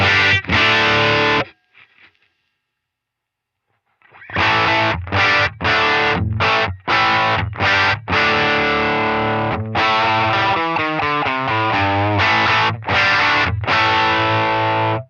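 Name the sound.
overdriven electric guitar, bite control turned down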